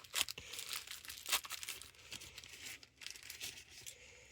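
Packaging for a wireless pet fence node being torn open, bursts of crinkling and ripping plastic or paper, close but quiet, with short pauses between pulls.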